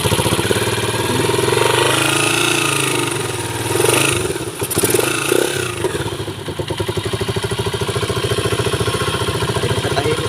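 A Rusi Macho 150 motorcycle engine runs after a tune-up, idling steadily with a fast even putter, briefly revved once before settling back to a loud close idle.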